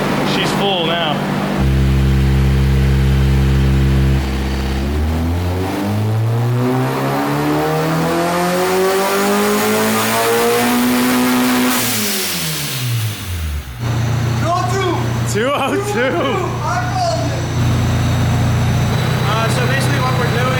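Supercharged ShartKart go-kart engine screams through repeated revs on a dyno, loud and close, pitch climbing and falling in long sweeps with brief drops between pulls, while people talk and shout over it.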